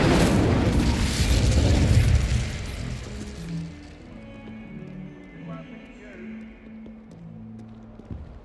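An Incendio fire spell bursts in Hogwarts Legacy, a loud, dense roaring blast that fills the first few seconds and then fades into a lower, quieter rumble with tonal game sounds behind it.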